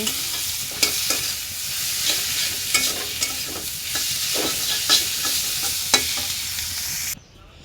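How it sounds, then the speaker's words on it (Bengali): Steady frying sizzle of red amaranth greens and bitter gourd, with repeated sharp scraping clicks of a spatula stirring in a pan, no voices, ending abruptly. "এই যে আমার শাক ভাজা হয়েছে করলা ভাজা হয়েছে"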